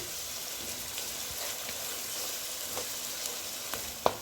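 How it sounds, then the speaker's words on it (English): Spices sizzle and fry in a pot as the base for a Durban mutton curry, a steady close crackling hiss with a few light pops and one sharp clink near the end. "So let my spice cook little."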